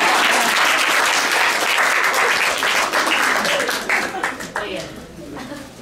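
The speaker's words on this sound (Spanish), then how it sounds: "Un aplauso porque habla." Fans at a meet and greet with Lali Espósito in Peru break into loud, sustained applause with cheering voices mixed in, the clapping thinning out near the end.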